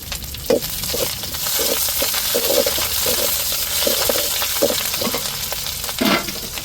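Curry leaves crackle and sizzle in hot oil for shark fish puttu. A steady frying hiss carries sharp pops and light stirring clicks, close up, with no talking.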